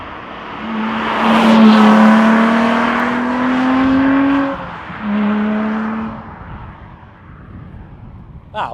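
A Lotus Exige Sport 350 sports car with its roof off drives along a North Wales B-road, its engine note loud and close, rising and sustained through a gear change before easing off.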